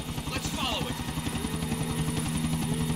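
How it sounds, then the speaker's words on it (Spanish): Helicopter in Grand Theft Auto IV: The Ballad of Gay Tony, a loud, steady rotor chop with a rapid pulsing thud and engine whine that runs throughout, with voices over it. "este helicóptero no tiene lanzamisiles"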